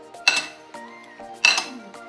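A utensil stirs snapper ceviche with squeezed orange juice in a bowl, giving two sharp clinks against the bowl about a second apart, with lighter scrapes and taps between, close and fairly quiet.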